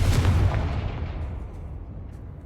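A Confringo fire spell from the Hogwarts Legacy video game bursts in a loud explosive boom, then its rumble slowly fades and tails off over the next couple of seconds.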